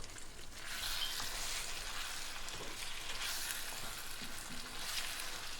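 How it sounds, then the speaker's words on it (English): Marinated chicken pieces sizzle and crackle steadily in hot oil in a pot, a close, continuous frying hiss with a few soft knocks of stirring. "Now add the marinated chicken pieces to the pot. Fry the chicken for about 5 minutes."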